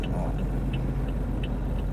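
A car's engine hums steadily while driving, a low continuous rumble from inside the vehicle with faint periodic ticking.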